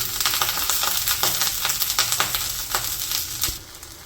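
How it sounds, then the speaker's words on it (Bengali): Onions and green chilies frying in hot mustard oil, a close, continuous crackling sizzle with dense pops and spatters that holds steady, then eases slightly near the end. "তেলটাও গরম হয়ে গেছে, এখন হচ্ছে গিয়ে পেঁয়াজ আর মরিচগুলো দিয়ে দিই।"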